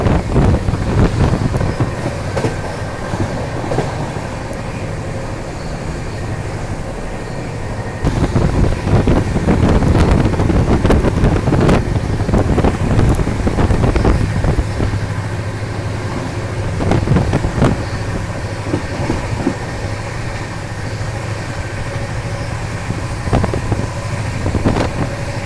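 Seemanchal Express passing at speed at a crossing, heard as a sustained roar of rushing rail noise and buffeting wind, loud and continuous with rhythmic clattering bursts throughout.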